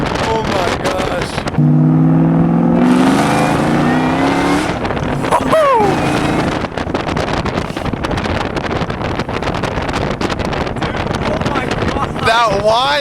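A 2003 Cobra under hard acceleration gives a loud rising engine whine with gear-change sweeps, heard from inside the car over wind buffeting and excited voices.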